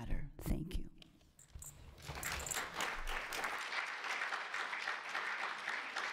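Applause from the audience at a school board action meeting rises after a brief burst of nearby noise and then holds as a steady, moderately loud patter of clapping hands filling the room.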